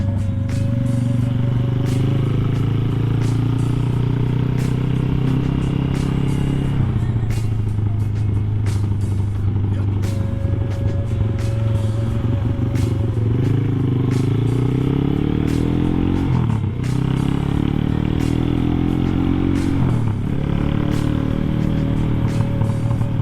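A Kawasaki Ninja SS motorcycle ridden on the road gives a loud, continuous engine drone that rises and falls with gear changes and throttle, close by and steady throughout.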